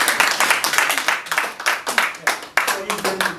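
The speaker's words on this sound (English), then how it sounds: "In fact, it's a clapping point." Audience applause at a management meeting in Kano, a steady wash of many hands clapping throughout with brief dips, fairly close and loud, with some voices mixed in.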